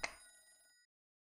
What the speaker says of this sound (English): Where's my phone? I need to get to my phone!